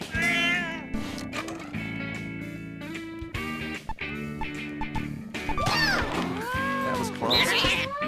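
Cat meows in the video game No More Heroes 2 rise and fall over loud, continuous game music, with a voice imitating the meows.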